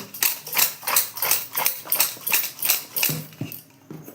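Homemade spice mix rattling inside a container shaken rapidly by hand, about a dozen quick rhythmic rattles at a steady pace, close and fairly loud, slowing and thinning toward the end.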